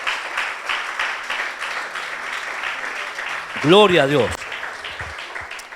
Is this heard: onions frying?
no